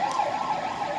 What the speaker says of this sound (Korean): 앰뷸런스가 지나가는 것 같습니다.